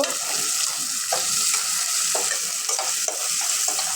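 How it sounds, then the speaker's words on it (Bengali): Chopped onions fry and sizzle steadily in a pan while a utensil stirs and scrapes through them in repeated strokes, loud and close, with no voices. "পেঁয়াজটা ভালো করে ভাজা হয়ে গেছে"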